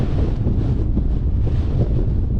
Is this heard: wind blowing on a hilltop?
yes